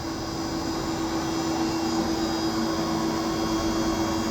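A Haas TL-3W CNC lathe spindle turning in reverse at 500 RPM, the machine resting on wood blocks, gives a steady, even hum with a faint constant whine, heard close and unbroken.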